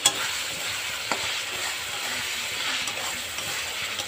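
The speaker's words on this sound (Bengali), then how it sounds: "এই যে মাংস রান্না হইতাছে, এটা হচ্ছে চাউমিনের লেগা।" Meat for chow mein frying in a pan while being stirred, a loud, close, continuous sizzle with occasional scraping knocks of the utensil, no talking.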